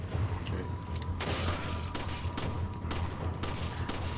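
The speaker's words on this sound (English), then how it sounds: "Okay, I shot him in the head. Don't stop shooting." Rapid gunfire from the video game Resident Evil 5, a string of sharp shots repeating at an uneven pace, sitting over a constant low background hum.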